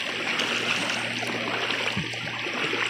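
River flowing past its banks, a soft steady wash of moving water, fairly quiet and continuous with a faint low hum underneath.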